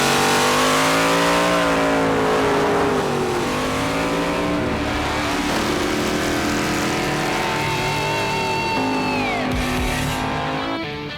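Detroit muscle cars at a drag strip, with engines revving and accelerating loudly and close by, rising and falling in pitch over a continuous rumbling roar with no talk.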